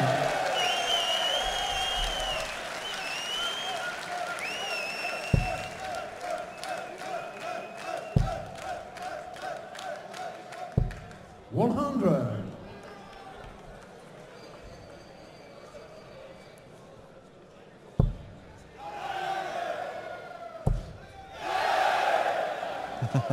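Darts crowd at the PDC Austrian Darts Open cheering and applauding a throw in a second-round match, a broad surge of noise rising around the middle and again near the end over a steady arena hum.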